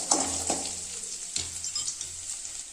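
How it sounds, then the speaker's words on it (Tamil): Sliced onion and tamarind sauté in hot oil for Vaadha Narayanan leaf chutney, giving a continuous close hiss of frying broken by a few soft scrapes of the spatula; no one speaks. "இந்த புளியும் அப்படியே போட்டுக்கலாங்க. புளியை போட்டு நல்லா வதக்கிக்கலாம்."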